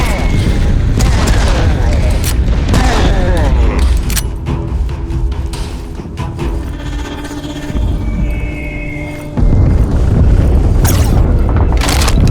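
Serious Sam 4 gunfire pounds as dense, heavy booming bursts with a throbbing mechanical hum beneath them, loud and continuous and briefly easing before slamming back in, with voices or game dialogue woven through.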